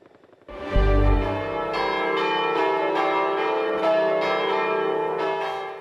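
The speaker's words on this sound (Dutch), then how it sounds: "Vandaag waren de kerkklokken in Goes op een bijzonder tijdstip te horen." Church bells in Goes ring for the liberation anniversary, a loud clanging peal of repeated strikes with long overlapping resonance, steady and prominent throughout with no talk.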